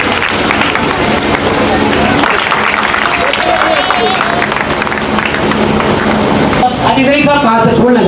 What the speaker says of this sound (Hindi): मेहमान के सम्मान में पूरी तालियां होना चाहिए